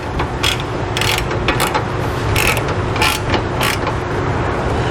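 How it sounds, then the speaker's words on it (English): A hand ratchet with an 18mm socket tightens flange nuts on a Curt trailer hitch receiver beneath a 2016 Chevrolet Malibu, clicking in quick repeated bursts, close and loud. "we can come back and tighten down our flange nuts first. These will use an 18mm socket."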